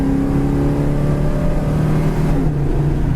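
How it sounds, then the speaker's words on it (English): A 1970 Dodge Challenger with a 318 V8 and dual exhaust rumbles loudly and close, a steady deep throaty drone with a slight rise in revs as it drives, no talk over it. "This thing sounds fantastic. Going down the road, the dual exhaust just has a nice bark to it."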